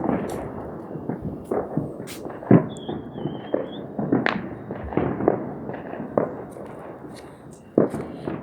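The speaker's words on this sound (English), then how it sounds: "Still have plenty of fireworks left" Fourth of July fireworks pop and crackle in scattered bursts, some sharp and loud, others farther off, with people's voices in the background.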